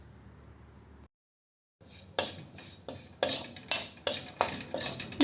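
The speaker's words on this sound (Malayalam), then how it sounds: "എന്നിട്ട് പൊടികളുടെ പച്ചമണം മാറുന്നത് വരെ നമുക്കൊന്ന് ഇളക്കി കൊടുക്കാം." A spoon scrapes and knocks rhythmically against a pan as chilli and turmeric powder are stirred into a tapioca curry, roughly eight close strokes after a brief silent gap, with no speech.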